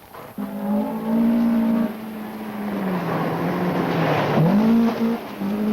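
A rally car on a closed practice road revs hard through its gears, the engine note climbing, dropping at a shift into second, then climbing again with a strained, wavering drone, loud and close throughout.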